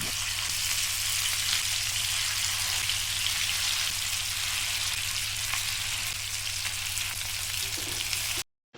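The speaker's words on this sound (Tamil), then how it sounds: "எண்ணெய் நல்லா காஞ்சதுக்கப்புறம் நம்ம மேரினேட் பண்ணி வச்சுருக்க சிக்கனை உள்ளே சேர்த்துக்கலாம்" Marinated chicken 65 frying in hot oil on a tawa produces an even, close crackling sizzle over a low steady hum, then stops abruptly.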